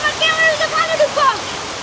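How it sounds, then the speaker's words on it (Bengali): Sudden rain driven by wind makes a steady broadband hiss beneath voices talking close by, with the wash of water continuing unbroken through the short stretch. "হঠাৎ হঠাৎ বৃষ্টি চলে আসে এটা কোনো কথা হইলো বাতাসও আছে ভালো"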